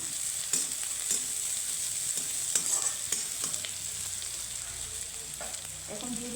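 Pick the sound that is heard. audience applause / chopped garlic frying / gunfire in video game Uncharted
chopped garlic frying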